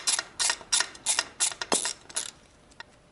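Screws on a KLR 650 motorcycle carburetor are gently tightened with a tool during trailside cleaning, making about eight quick rhythmic ratcheting clicks up close. The clicks slow and fade toward the end, and no one speaks.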